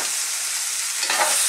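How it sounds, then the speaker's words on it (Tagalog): Bacon and sausage stirred in a hot frying pan for a Filipino callos, a continuous close sizzle with a scraping stir swelling near the end. "Haluin lang natin."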